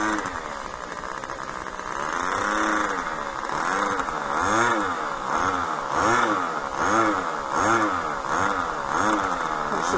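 A small model aircraft engine, a size 61 turning a 12.6 propeller, buzzes steadily, its high-pitched whine wavering up and down in a regular pulsing rhythm, fairly loud and close.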